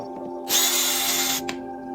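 A power drill whirs once for about a second, close up, as it backs out a bolt from the lower main cover of a Ryobi electric riding lawn mower. A hum runs steadily in the background.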